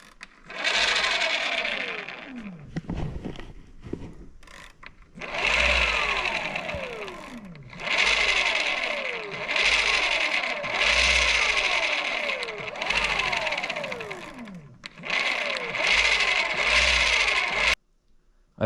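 Bafang BBSHD mid-drive motor on an e-bike running under pedal assist, with something inside spinning freely: repeated bursts of whirring motor whine that rise and fall in pitch, separated by short pauses, close and fairly loud with no talking.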